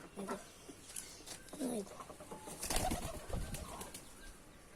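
Soft cooing of a pigeon held in a hand nearby, then a brief flutter of wings as it is released, faint and muffled against low background noise.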